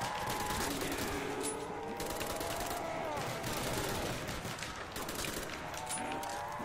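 Rapid game gunfire in Black Ops Zombies, dense bursts of automatic shots over a constant loud mix of effects and music, continuous throughout.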